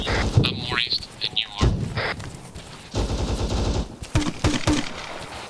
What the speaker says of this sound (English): I hear you shooting that.